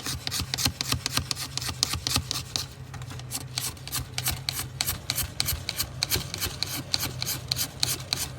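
A blade rapidly scrapes shavings off a piece of antler to repair a chipped bone knife handle, making quick, rhythmic rasping strokes up close, with a brief pause partway through.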